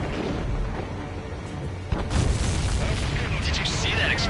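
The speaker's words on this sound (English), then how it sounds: "Did you see that explosion? Looks like that's one of them down." Supply ship explosion in Ace Combat 7 on PS5, a muffled rumbling game backdrop broken by a sudden booming blast midway that sustains a loud crackling roar, with radio-style voices talking over it.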